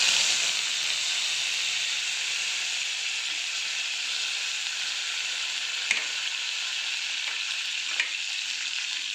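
Chopped onion and curry leaves sauté in hot oil in a pan for upma, a steady close sizzle and hiss with a couple of faint clinks of a spoon against the pan.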